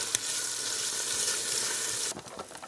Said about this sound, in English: We're going to give that bacon a stir.